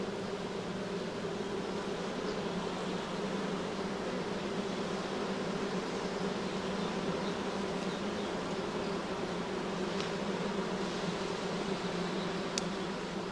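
Honey bees buzzing continuously in a dense, steady drone throughout, with no pauses and no voices.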